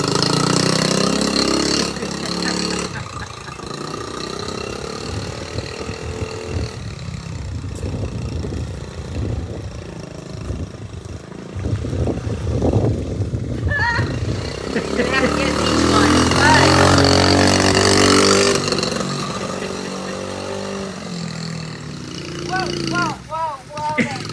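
A Dead Head Trail 70 mini bike engine with a dirty, poorly tuned carburetor sputters and revs nearby, rising and falling unevenly and cutting out, while people talk and exclaim over it.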